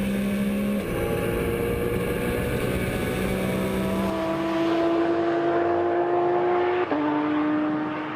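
A Porsche 911 GT3 Cup race car engine drones loudly and steadily, its pitch climbing through the gears with a sharp shift near the end, no voices present.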